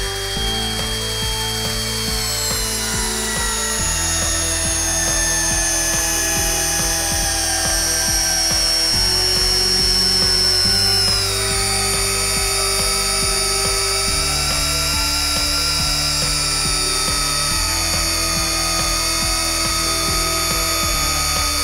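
A Flex 12V cordless screwdriver drives screws with a loud, steady motor whine at constant torque, breaking into several segments of similar length as each screw goes in, with no talking.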